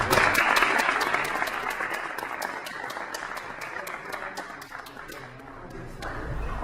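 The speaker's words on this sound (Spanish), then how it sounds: "Lo recibimos con un fuerte aplauso, por favor." Audience applause welcoming a speaker at a physics lecture, steady dense clapping from a crowd that starts loud and gradually thins and fades, with a few sharp claps standing out, no talking.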